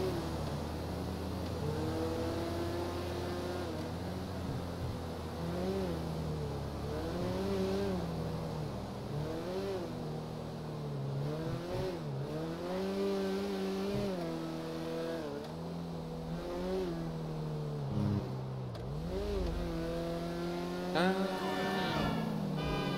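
Car engine in GTA revving and easing repeatedly as it drives, with rising and falling pitch through the run, a steady moderate drone throughout.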